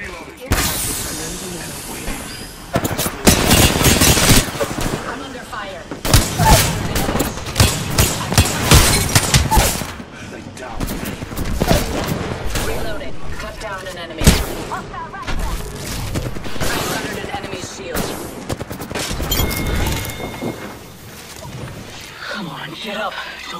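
Dense gunfire in Apex Legends gameplay, rapid bursts of loud shots and hissing blasts over a steady battle din, with voices talking intermittently throughout.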